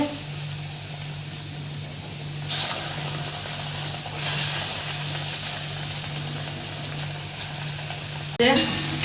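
Potato chops deep-frying in hot oil give a continuous, fairly loud sizzle, with a few brief bursts of louder crackling as pieces are moved or added.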